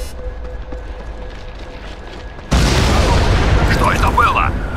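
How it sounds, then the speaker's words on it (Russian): An explosion goes off in the video game Crysis 2, a sudden loud blast halfway through after a quiet stretch, followed by a sustained roaring rumble with faint voices over it. "Взрыв после церкви, сектор Дельта!"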